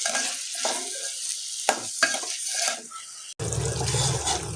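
Paneer makhani curry cooking in oil in a pan, with bubbling, stirring scrapes and a couple of sharp knocks, then a sudden cut to a louder, fuller sizzle.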